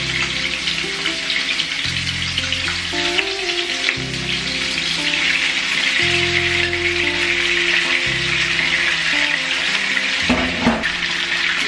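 Tilapia sizzling in hot cooking oil gives a steady, close crackle and hiss throughout, with soft clinks and a low tonal background hum, and no talking.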